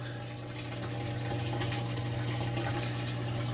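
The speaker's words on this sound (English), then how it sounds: "A joyful sound to the ears, draining away." The drain pump of an LG washer dryer combo drains water with a continuous, steady hum and the rushing gurgle of water flowing away, close and even throughout with no talk.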